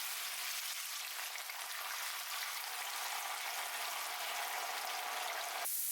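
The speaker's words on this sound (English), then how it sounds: "Fry the potatoes until they are golden and crispy on the outside." Potatoes fry in hot oil with a steady, even sizzle that holds throughout, close and unbroken, with no voices.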